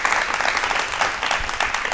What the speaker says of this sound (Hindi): एक बार मैम के लिए तालियां जोरदार बनती हैं